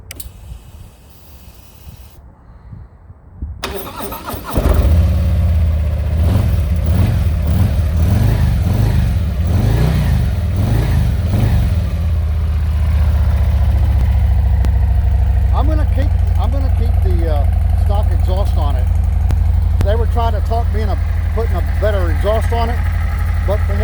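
A motorcycle fitted with a Screaming Eagle engine cranks and fires up loudly, then settles into a deep rumbling idle with repeated throttle blips and revs; someone talks over the engine.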